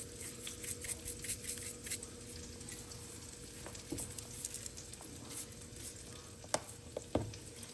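Burger patties sizzle while grilling on an indoor pan, a faint, steady crackling hiss scattered with small pops and a couple of sharper spits near the end.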